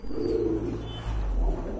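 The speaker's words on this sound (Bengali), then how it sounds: "এখানে কিন্তু খুবই চমৎকার আরেক জোড়া রেড চেকার কবুতর আছে" A pair of red checker pigeons coos in low, soft, throaty murmurs that run steadily for a couple of seconds, close by and with no talking over them.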